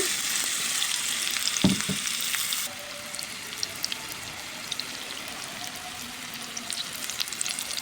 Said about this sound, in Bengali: একদম ব্রাউন কালার করে রসুনগুলোকে ভেজে নিয়ে এবার জলপাইটাকে দিয়ে দিচ্ছি